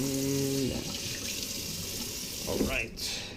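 Water from a kitchen tap runs steadily into a sink while a knife is rinsed under it, close by, with brief splashing shifts and a voice murmuring over the flow.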